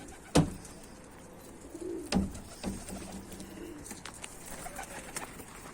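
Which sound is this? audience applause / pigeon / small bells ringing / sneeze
pigeon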